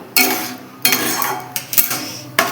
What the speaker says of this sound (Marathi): असं सतत हलवत राहायचं म्हणजे त्यामध्ये गुटळ्या होत नाही